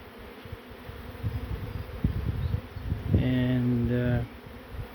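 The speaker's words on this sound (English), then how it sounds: "it's getting harder and harder to get the bees off the tree." Steady buzzing of a large honey bee swarm clustered on a tree trunk hums in the background, with a louder close pass of droning wings near the end, plus some rustling handling noise.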